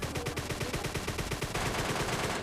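Rapid, evenly spaced MK rifle shots from a PUBG Mobile Lite match crack out in a dense burst, loud and close, continuing steadily with no voices.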